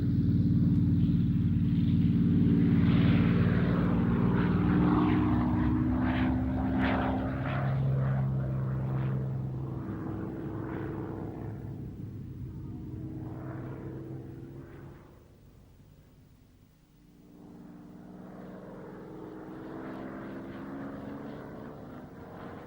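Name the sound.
Spitfire fighter aircraft flying overhead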